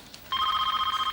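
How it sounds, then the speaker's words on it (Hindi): An old telephone bell rings loud and steady, starting abruptly after a brief quiet moment and continuing with a rapid trilling pulse in an indoor scene. "ये टेलीफोन भी सिर्फ बुरी खबर के लिए रह गया है।"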